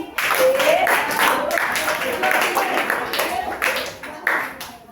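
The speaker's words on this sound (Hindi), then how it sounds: "ये लगा दो 3 ताली बाबू" Students in a maths classroom clap together in a series of sharp, rhythmic group claps, loud and near, while a teacher's voice talks over them.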